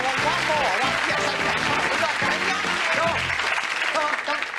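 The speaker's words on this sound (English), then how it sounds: "Give her a round of applause, please." A studio audience at a TV game show bursts into a loud, sustained round of applause that fills the whole stretch, with a host's voice and music riding over the clapping.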